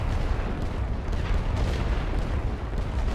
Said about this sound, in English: Oh, their artillery can reach.